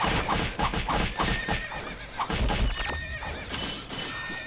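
A black horse in the Ragnarok Online game whinnies loudly while rapid hoofbeats clop underneath, with game effects layered over the galloping rhythm.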